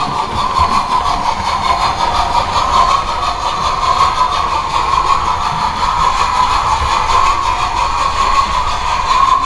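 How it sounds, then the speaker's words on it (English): A Hornby Bulleid three-cylinder model steam locomotive runs steadily, giving a continuous close mechanical whir with a faint, rapid chuff-like pulsing and a steady hum, without voices. "You may have noticed that it's 3 chuffs per revolution instead of 6."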